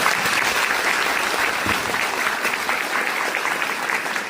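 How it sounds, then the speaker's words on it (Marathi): A seated audience at a ceremony honouring parents claps loudly and steadily, dense applause filling the whole stretch without a pause. "एकदा बसल्या जागी जोरदार दणदणी टाळ्या वाजवतात"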